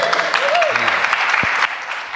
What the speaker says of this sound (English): Steve and Michael, give them a nice round of applause